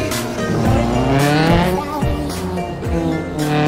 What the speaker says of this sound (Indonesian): Emang enak nih guys kalau pakai knalpot blong, kita gober-gober nih tuh.